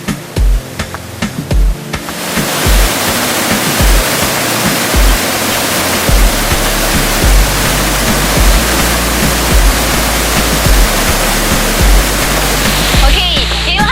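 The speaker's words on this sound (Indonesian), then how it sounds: "Oke, inilah air terjun dari Sriti ya." Sriti waterfall in Lombok roars as a dense, steady wash of falling water that fills the scene after a brief opening of scattered knocks, loud and constant with no talk over it.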